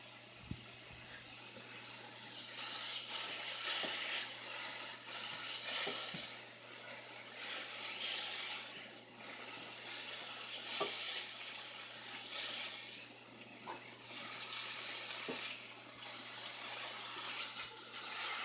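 Pieces of beef or mushrooms sizzling and browning in a hot frying pan, a steady loud fry hiss throughout with occasional stirring clinks and scrapes, no voices.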